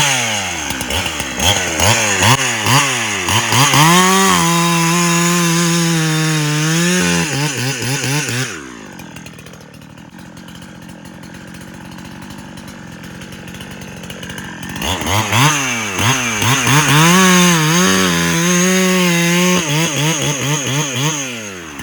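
A Husky 372XP clone chainsaw cuts through wood, engine screaming loud and close under load, dropping to a lower idle-like drone midway, then bogging and revving again into a second cut.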